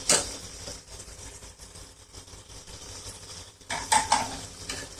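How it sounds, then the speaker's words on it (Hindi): Dry spices being stirred into fried onions in a pan for Mughlai-style nargisi kofta curry, a steady scraping stir with light sizzle and occasional utensil clinks against the pan, close and moderately quiet, with a louder burst of scraping near the end. "अब इनको भी डालकर अच्छे से मिक्स करेंगे। मसालों की भी अच्छे से भुनाई हो चुकी है।"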